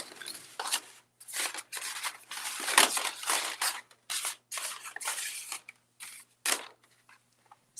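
Tarot cards being shuffled close by in quick papery bursts, each rustle separated by short pauses.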